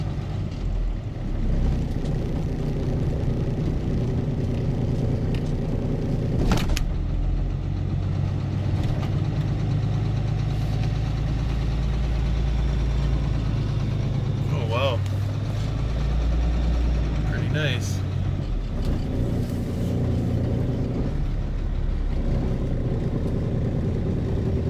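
A giant truck's engine runs steadily at a low rumble while it crawls along looking for parking, a continuous idling drone with a few brief higher-pitched noises cutting across it.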